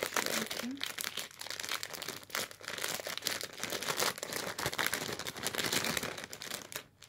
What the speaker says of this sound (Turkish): Muzları parçalıyoruz. Sonra poşetin içine koyuyoruz.